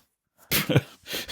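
A single sharp sneeze bursts out after a brief silence, followed by a short breathy exhale, close by.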